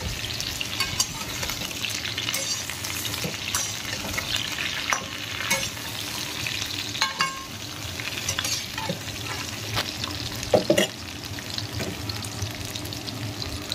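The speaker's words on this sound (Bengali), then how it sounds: "সর্ষের ডাটা দিয়ে আমি আরও খানিকক্ষণ কষিয়ে নেব।" Vegetables sautéing with mustard stems in a pan over a village cooking fire: continuous sizzling and frying with repeated scraping stirs of a spatula, close and moderately loud, no talking.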